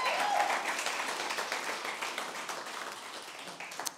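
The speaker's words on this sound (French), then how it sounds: "Je crois qu'on peut applaudir ça." An audience at a talk applauds Mathilde for completing her theology bachelor, a steady wash of many hands clapping that starts strong and slowly tapers off.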